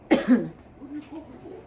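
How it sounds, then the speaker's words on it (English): A short, gruff throat-clearing burst up front, followed by faint low murmuring voice sounds trailing off quietly. "My throat's just dry. I'm trying to like get something out my throat."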